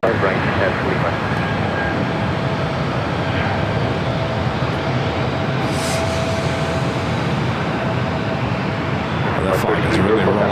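A jet takes off from runway 25 right at LAX on a foggy night, its loud, continuous engine roar filling the whole clip beneath ongoing talk and radio chatter.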